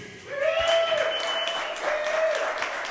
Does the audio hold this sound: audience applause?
yes